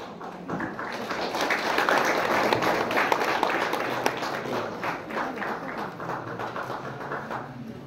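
Sustained applause from an audience at a Vishva Hindu Parishad anniversary gathering in Dodamarg, steady and dense for several seconds with faint voices mixed in.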